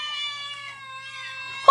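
A cat gives one drawn-out, tonal meow that wavers steadily before cutting off with a brief sharp sound at the end.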